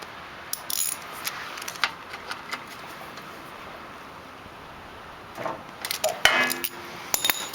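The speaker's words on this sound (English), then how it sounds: "Snug it up. Our 10 millimeter socket." A 10 mm socket ratchet snugs up a bolt on a portable generator during storage maintenance, with scattered light metallic clicks and a brief burst of ratcheting near the end over steady background hiss.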